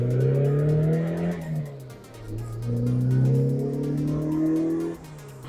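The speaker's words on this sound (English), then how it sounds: "you hear the exhaust just because it's upgraded, you hear it pretty well" A Mazda Miata MX-5 with an upgraded exhaust revs hard through rising gears, the loud exhaust note climbing, dropping at each shift, then climbing again, close and continuous.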